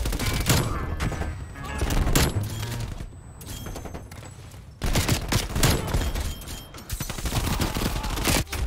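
Dense rapid gunfire from a competitive video game shooter, with repeated bursts and sustained volleys throughout, loud and close, with a short lull in the middle.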